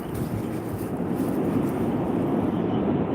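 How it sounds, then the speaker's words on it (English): A train rumbles past railway tracks beside a forest path, a steady loud low roar with a broad rushing wash, close and continuous without a break. "There is a train passing by"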